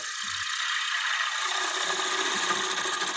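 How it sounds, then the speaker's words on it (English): A wood-turning gouge cuts into a spinning multi-axis wooden camper's cup on a lathe, a steady loud rasping, whirring scrape with a rattling mechanical edge that holds continuously throughout. "I can open up the gouge where it will cut more efficiently and it won't skate back"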